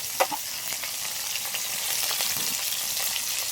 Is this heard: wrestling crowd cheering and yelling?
no